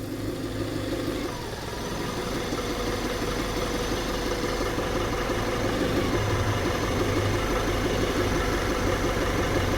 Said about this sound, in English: all I'm doing is touching our alternator connection and it's changing the idle of the vehicle